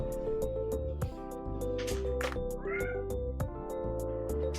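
A cat meows several times, loud and close, over steady background music in a home setting.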